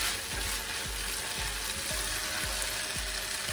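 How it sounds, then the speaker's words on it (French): Rice with chicken and parsley being stirred in a pan over medium heat, a steady close sizzle broken by a regular rhythm of scraping strokes, with no talking. "Je mélange."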